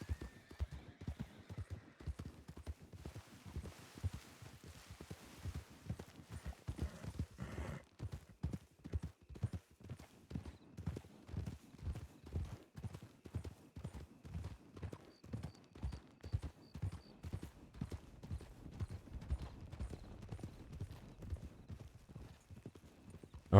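Hooves of horses trotting in the game Red Dead through WildRP clop in a fast, steady rhythm, a dense run of close, even beats that picks up pace after the first few seconds and continues throughout, with a faint whinny early on.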